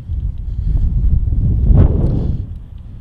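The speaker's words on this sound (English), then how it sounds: "Just kind of testing out here real fast how the wind is" Wind buffets a microphone in an outdoor mall parking lot in Florence. The rumble is loud and continuous, rising slightly in the middle and holding steady for a few seconds.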